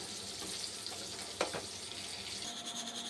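Dry red chillies and cumin sizzle in hot oil as a tempering for dal, a continuous loud frying hiss with one brief clatter midway and no voices.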